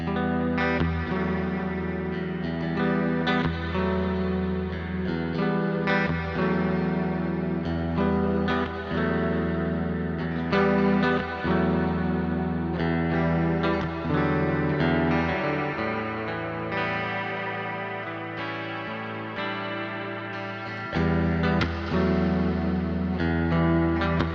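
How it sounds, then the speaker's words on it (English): A Walrus Audio Fathom reverb pedal swells continuously on a sustained guitar tone, a deep, washy effect producing low, moaning, whale-like drones with shimmering overtones. "Kind of like deep sea effect, like whale-like noises"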